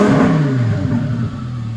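A modified Dodge Neon SRT-4 bought at a salvage auction revs close by, its engine note sliding downward as the revs drop over a couple of seconds.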